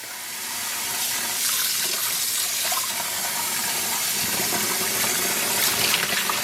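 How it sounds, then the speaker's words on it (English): Steady rush of running tap water splashing into a sink, close and continuous, with faint sloshing of dyed yarn skeins being rinsed of soap beneath it. "I'm gonna rinse out the soap."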